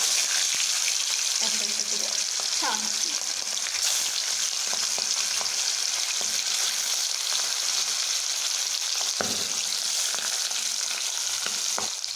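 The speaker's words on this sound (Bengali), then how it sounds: "এই মাছগুলো কড়াতে ছাড়ার পরে একটু ফুটতে থাকে" Fish sizzle and crackle in hot oil in a kadai, a dense, loud, continuous frying hiss, close by, with a few faint clinks of utensils.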